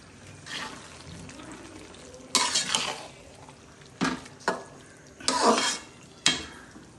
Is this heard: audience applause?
no